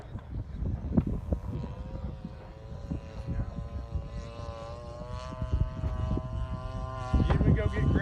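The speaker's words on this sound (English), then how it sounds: "The EDF jet's about to take off." Electric ducted fan (EDF) model jet taking off at an outdoor airplane show and swap meet: a steady, sustained high-pitched whine holds throughout at moderate distance, with people talking over it and crowd noise around.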